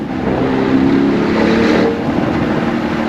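Lamborghini Urus with an 800 hp engine, heard from inside during a taxi ride, roaring steadily and loud with a sustained revving drone that swells slightly before easing back.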